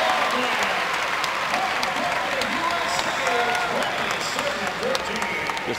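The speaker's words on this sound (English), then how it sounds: "This crowd is really getting into it." A volleyball crowd at a women's match between the USA and Japan applauds after a long rally, with steady, dense clapping and cheering that stays loud and continuous throughout, with no break.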